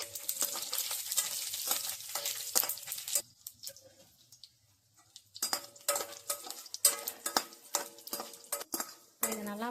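Cinnamon, cloves, bay leaf and cashews sautéing in ghee for kichadi, crackling sizzle with repeated clinks and scrapes of a spoon against the pan, close up, with a brief quieter pause midway.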